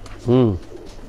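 A single drawn-out coo from a topi-wale (crested) pigeon rises clearly and close for about a quarter second, with a voice heard faintly around it.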